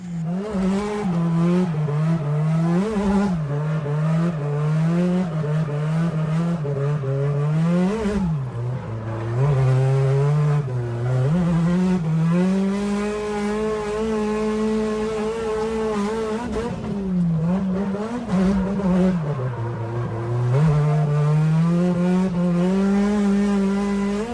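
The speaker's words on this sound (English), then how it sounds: "we're gonna finish it off with some fun Touge driving, and I'll throw in the real life clips now." A Nissan S14 drifting on a touge mountain road, engine revving hard and continuously with rising and falling pitch as it shifts, joined by long tire squeals, loud and close with no talking.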